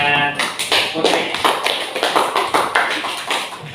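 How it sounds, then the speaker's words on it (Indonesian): Classroom students clapping their hands together in a quick, fairly loud rhythmic series of claps, each clap distinct, after a brief voice at the start. "Ya, tepuk tangan buat Putri."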